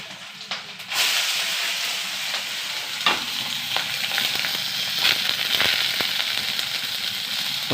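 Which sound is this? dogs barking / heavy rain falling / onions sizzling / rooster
onions sizzling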